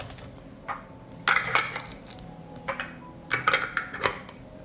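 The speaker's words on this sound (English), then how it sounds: "I close the jars with a clean lid." Clean metal lids close onto glass jars of plums in a kitchen, giving a few clustered clinks and metallic scrapes in separate bursts, close and fairly quiet, with no talk.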